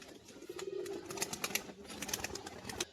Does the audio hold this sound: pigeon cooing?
yes